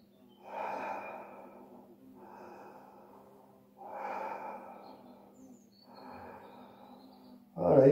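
Slow, deep breathing during a bioenergetic arched-back exercise: four long, airy inhale and exhale cycles evenly spaced over a steady low hum, ending in a louder rough breath.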